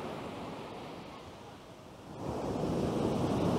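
Sea waves wash steadily onto a sandy beach in Budva, a continuous broad roar of surf that swells louder toward the end, with some wind noise.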